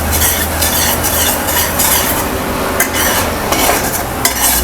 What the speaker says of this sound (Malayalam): അതുവരെ നമുക്ക് നന്നായിട്ടൊന്ന് ഇളക്കി കൊടുക്കാം.